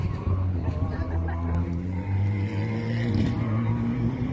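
Rally car at Rally Mayo on the island, its engine droning steadily with rising harmonics as it passes, moderately loud and fairly near.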